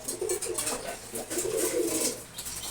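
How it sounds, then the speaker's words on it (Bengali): Pigeons, including racers, coo softly in a low repeated rhythm as they finish eating their feed, with faint shuffling noise nearby. "দেখাচ্ছি কবুতরগুলো খাবার খাওয়া শেষ করে ফেলছে প্রায়।"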